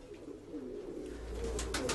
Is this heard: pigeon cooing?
yes